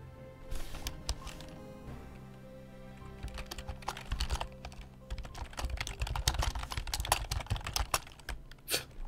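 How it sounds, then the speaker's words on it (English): Typing on a computer keyboard during a Spiral Knights game, quick irregular clicks and key taps close by, fairly quiet and alone. "Look at what you're typing."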